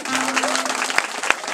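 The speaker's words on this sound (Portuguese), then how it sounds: "Agora eu quero te dar uma salva de palmas" An audience applauding at a devotional gathering, a brief dense burst of clapping with a voice briefly audible in the background.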